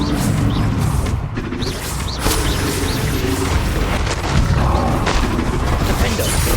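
Bombarda explosion spell cast in Hogwarts Legacy, heard as loud booming blasts and crashes over a dense, continuous game soundscape of combat effects and music.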